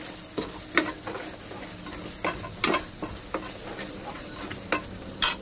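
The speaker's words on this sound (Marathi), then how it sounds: "मस्त मसाला भाजलाय छान एकदम." Masala for misal is roasted in oil in a pan and stirred often. Spoon scrapes land in an irregular rhythm over a low, continuous sizzle, close and fairly quiet, and no one speaks.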